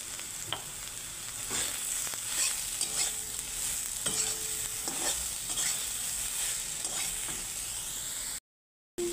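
Soybean chunks fry in hot oil while being turned over in the pan, giving a steady close sizzle broken by repeated light scraping and tapping strokes.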